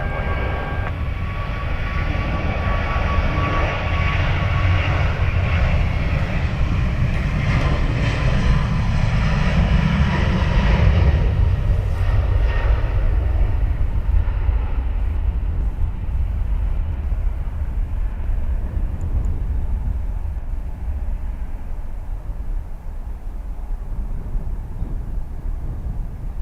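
A jet airliner at Dublin Airport on runway 10 right, a loud sustained engine roar that builds, peaks and then eases into a fading rumble, heard up close with no talk.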